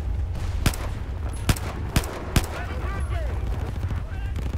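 Several sharp gunshots ring out in Battlefield 4 during a battle aboard the USS Valkyrie, spaced irregularly over a steady rumble of background combat noise, with faint voices and chatter in the mix.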